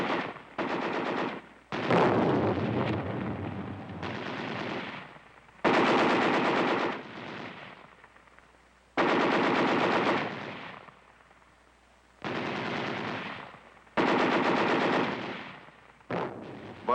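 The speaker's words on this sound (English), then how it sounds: "the infiltration course with its live fire and explosions" Bursts of live automatic gunfire and explosions on an army infiltration course, loud and close, coming in several long rapid-fire volleys separated by brief pauses, with no voices.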